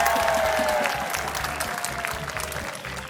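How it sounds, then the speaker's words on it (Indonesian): An in-studio audience on a cooking show applauds children, steady clapping that gradually fades over a few seconds while a faint tone lingers underneath. "kasih tepuk tangan buat adik-adik nih"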